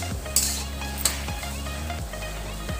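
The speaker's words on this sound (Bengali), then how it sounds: "ভালো করে আমি টমেটোটা মশলার সাথে মিশিয়ে নেব।" Tomato and green chillies being stirred into spices in a pan for a Bengali cabbage curry, a soft scraping stir with a light sizzle, two sharp utensil clinks early on, and background music.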